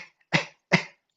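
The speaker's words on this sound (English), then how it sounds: "cough it out." Two short, sharp coughs from the diaphragm during a breathing exercise, evenly spaced about half a second apart, close and clear with silence between.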